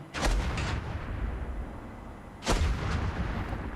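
Mech cannon fire in the video game Farlight 84: two heavy, booming shots about two seconds apart, each followed by a short echoing tail over steady background rumble.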